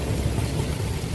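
Rain beginning to fall outdoors makes a dense, steady broadband rush with a low rumbling undertone, continuous and fairly loud throughout, with no voices.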